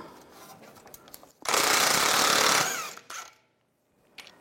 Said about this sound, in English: Remove this nut right here, use a 22mm socket.